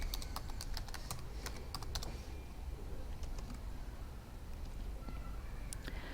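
Password typed on a computer keyboard: a quick run of crisp key clicks, pausing in the middle and resuming with a few scattered taps, fairly close over faint room hiss.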